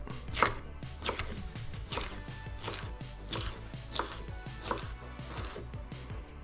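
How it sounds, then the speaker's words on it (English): A knife chops fish on a cutting board into small cubes. The fish comes from a catch landed at North Shields Fish Quay on the River Tyne. Steady, rapid blade taps ring out close by with no talking. "we will cut it into tiny little pieces"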